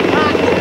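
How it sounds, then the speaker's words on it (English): A helicopter prepares to take off, its engine and rotors giving a steady, loud, close droning whir under a speaking voice. "the sooner that helicopter takes off and we can stand up again, the better"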